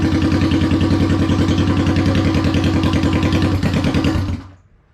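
A Honda CB350 motorcycle engine runs steadily and close by with an even, throbbing exhaust pulse, then cuts off and dies away near the end.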